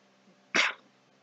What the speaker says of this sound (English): And I feel a sneeze coming.